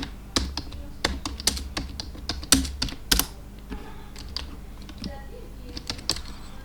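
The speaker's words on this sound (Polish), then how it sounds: "Na klawiaturze trzeba go odpisywać." Fingers tap quickly on a computer keyboard while entering text in a Minecraft game, giving a close, uneven run of crisp clicks with a few louder strokes and brief pauses.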